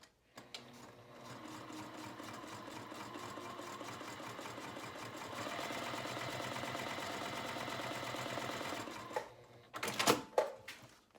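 A Baby Lock sewing machine fitted with a zipper foot and threaded with Gutermann Mars 70 thread stitches in a steady, quiet whirring run that speeds up midway, then stops with a few clicks and rattles.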